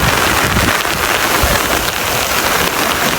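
A torrential cloudburst downpour over Varal village in Sihor taluka, the flooding rain a dense, loud, unbroken roar of drops hammering surfaces close by, with no voices.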